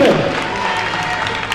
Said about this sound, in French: Et on peut l'applaudir un peu plus fort, les amis